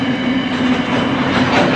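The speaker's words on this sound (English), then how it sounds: "this freight train is diesel" A passing diesel freight train near the Midland railway workshops, with a steady loud rumble, a strong low engine hum and rhythmic clattering of wagons rolling by close, with no talk.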